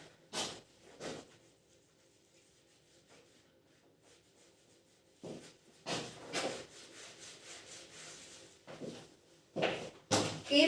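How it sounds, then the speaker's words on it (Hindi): Cloth or duster rubbing across a classroom board to erase writing, several bursts of brisk scrubbing strokes separated by pauses, fairly close and moderately loud, with no talking. "तो इसको रब कर देते हैं।"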